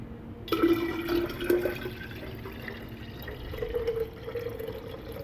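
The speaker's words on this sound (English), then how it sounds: "I'm going to go ahead now and add 4 cups of room temperature water." Room temperature water poured into a container while brewing kombucha, a steady close liquid pour with trickling and splashing that swells and eases over several seconds, no talking.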